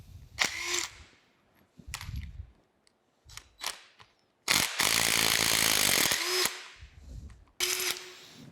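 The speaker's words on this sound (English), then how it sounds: "So I'm gonna go ahead and try to get these bolts out, and we'll give it a try." Bolts are loosened on the saddle of a horizontal boring mill during its restoration with a power driver, heard as loud close bursts of whirring broken by short clanks and pauses, with no talk.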